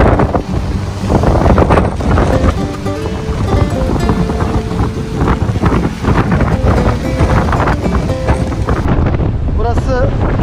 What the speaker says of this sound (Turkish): Burası kötü bir havada geldiğim için gerçekten bayağı soğuk ve dalgalı